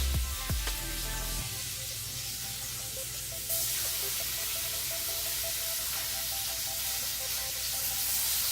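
Bacon strips frying a couple at a time in a pool of their own grease in a pan on the stove, a steady close sizzle and crackle with a few sharper pops early on, no talking.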